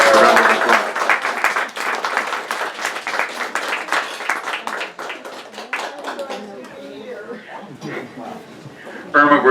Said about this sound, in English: Could you please give her a round of applause?